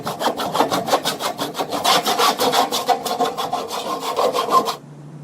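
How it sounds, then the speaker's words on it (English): Hacksaw cutting through an aluminum downspout held between the legs, a steady rhythmic back-and-forth rasp of quick strokes, close and loud, stopping abruptly near the end. "I've always treated aluminum the same as I do pipe. I like to use a hacksaw."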